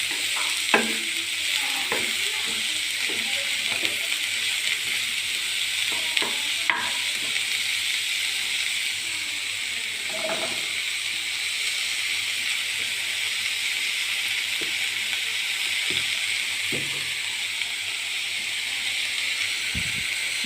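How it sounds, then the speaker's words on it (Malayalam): Onions sauté in hot oil in a pan, a steady soft sizzle with occasional scrapes and taps of a stirring spoon throughout, no one talking. "വഴറ്റിയെടുക്കുന്നുണ്ട്. അധികം വഴറ്റണില്ല, ചെറുതായിട്ട് ചൂടാക്കണുള്ളൂ."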